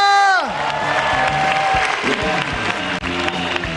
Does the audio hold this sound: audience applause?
yes